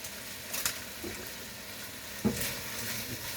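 Red pepper and mushroom frying in bacon fat in a pan alongside chicken, a soft continuous sizzle with a few scraping stirs and light clatters, fairly quiet and close.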